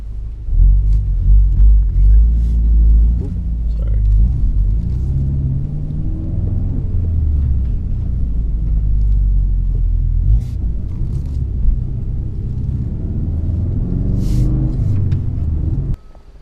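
A Ford Focus RS with a loud exhaust rumbles deep and steady from close by, its throbbing low drone shifting slightly in pitch for about sixteen seconds before cutting out abruptly.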